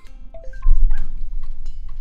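A dog in Super Mario Maker 2 gameplay lets out a few loud, short yips and whimpering barks in quick succession, layered over tonal game sounds.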